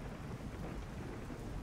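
Splashing rain with low thunder rumbling beneath it, a dense and steady background storm wash with no voices.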